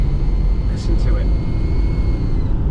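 A van engine with a leaking, recently replaced turbo runs with a steady, loud broadband roar and hiss, and a couple of brief, faint higher chirps rise above it.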